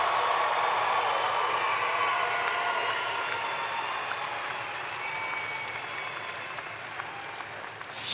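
At the UCCS spring 2013 commencement ceremony, a large audience applauds the graduates with sustained, even clapping. The sound forms a broad, steady wash that holds for the full length without any voices.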